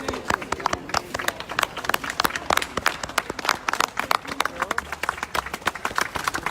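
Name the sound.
crowd applauding the Italian police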